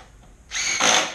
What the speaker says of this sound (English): If you have a little impact driver like this, they are great for getting things together and apart quickly